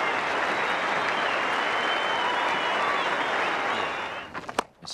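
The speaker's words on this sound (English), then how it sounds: "Everyone off the backside standing up, cheering him out to the middle." Cricket crowd at a 1983/84 Pakistan versus Australia Test match applauds and cheers a batsman walking out to the middle, a dense, sustained wash of clapping and cheering that fades out near the end.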